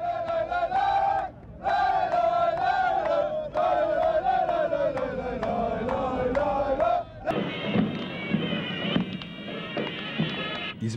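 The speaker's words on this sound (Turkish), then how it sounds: "gerek tribün şovları, gerek tezahüratlarıyla herkesi bastıran Türk taraftarlar şampiyonluklarını şimdiden ilan ettiler bile" Turkish football fans in the stands chanting in unison with a sustained sung tone, then breaking into a roaring crowd cheer with rhythmic claps, loud and massed.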